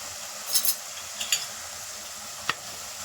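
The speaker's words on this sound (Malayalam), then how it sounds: "ഇതൊന്ന് നല്ലവണ്ണം ഒന്ന് പച്ചമണം മാറുന്നത് വരെ ഒന്ന് വഴക്കിയെടുക്കാം" Chilli powder and turmeric powder are sautéed in a pan while lime pickle is being made. A soft, steady sizzle runs under a few light scrapes and clinks from stirring.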